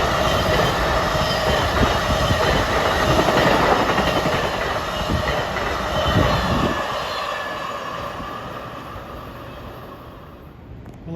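A Long Island Rail Road M3 train bound from Penn Station to Far Rockaway passes Forest Hills station during the evening rush, a loud, steady roar of wheels and motors that slowly fades toward the end.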